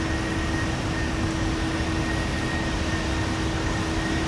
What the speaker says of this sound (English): That loud noise? It might be the plane.